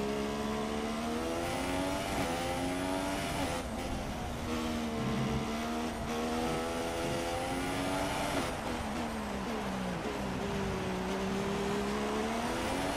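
Formula 1 race car engine from the F1 2016 racing game at the Australian Grand Prix, a loud continuous high-pitched whine with rising and falling revs through gear changes, steady throughout.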